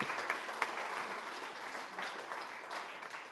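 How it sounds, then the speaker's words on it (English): Audience applause at an avalanche snowpack information evening in Fernie, a steady, moderately faint wash of clapping held at an even level for the whole stretch, with a couple of sharper individual claps standing out. "So let's give some applause and welcome to OJ."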